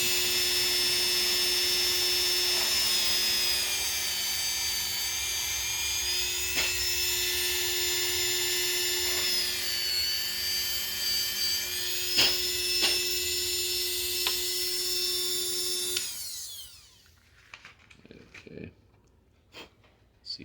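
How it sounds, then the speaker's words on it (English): A Dremel rotary tool whines steadily while cleaning out a part of a 1/6 scale time machine model, a loud continuous high-pitched drone with a few small dips in pitch, stopping near the end before faint handling clicks. "I was going to clean that out a little bit more with the old Dremel"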